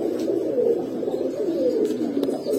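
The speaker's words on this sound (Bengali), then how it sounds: "ভাই আসলে এটা হলো হাইড্রোলিক কষা কবুতর" A hydraulic kosha pigeon coos in a steady, low, rolling series of calls, close and fairly quiet, with no talking over it.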